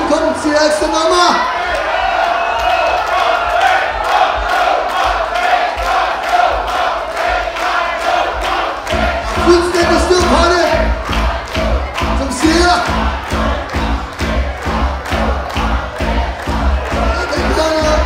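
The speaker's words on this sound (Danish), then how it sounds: "Kan vi få lov til at høre publikum sige ekstra nummer?" A festival crowd chants in steady rhythmic unison for an encore, loud and continuous with cheering, and a pulsing beat joins in partway through.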